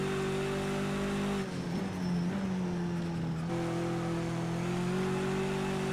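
BMW 320 TC E90 race car in Project CARS 2 lapping Bathurst, its engine holding a steady loud drone that dips on a gear change and climbs again, heard alone and close.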